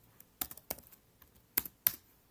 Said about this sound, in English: I will then enter my username and password